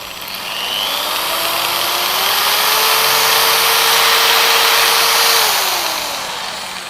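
An electric drill spins up, holds a steady loud whine for several seconds and then winds down, with no talk over it.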